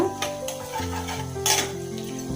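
An egg fries in a pan with a soft sizzle, joined by a couple of sharp metallic clinks and scrapes of a utensil against the pan, with a steady tonal hum underneath.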